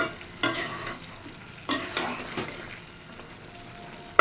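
Lentil dumplings (bori) fry in a pan under a soft steady sizzle, with three or four distinct scraping stirs of a spoon against the pan spaced about a second apart.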